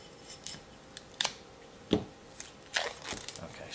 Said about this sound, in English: Let me get my little Leatherman out to make getting this plastic off a lot easier.